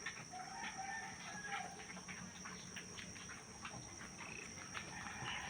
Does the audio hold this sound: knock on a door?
no